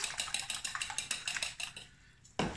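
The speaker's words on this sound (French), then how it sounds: "Prenez une petite fourchette ou un fouet. Vous me remuez ça. Vous fouettez ça." Eggs whisked briskly in a bowl with a fork or whisk for a pad thai: a fast, steady run of bright metallic clinks against the bowl that slows and stops, then one louder knock.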